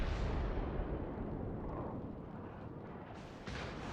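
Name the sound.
naval gunfire on ships in the video game World of Warships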